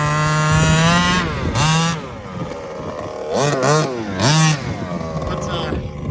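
Gas-powered RC rally car, geared for torque, on its first run: the small nitro engine idles with a buzzing drone, then rises and falls through several sharp, loud revving bursts close to the microphone.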